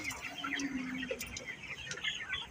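Nine-day-old broiler chickens on a poultry farm keep up a steady, overlapping mix of soft clucks and high chirps at moderate distance, with no voices present.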